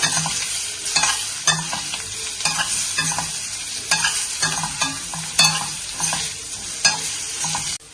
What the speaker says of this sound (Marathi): तेलामध्ये सोडून छान परतवून घेऊया.